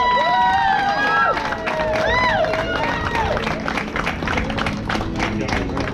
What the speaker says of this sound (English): give Mr. Jesse Williams a round of applause for everything he has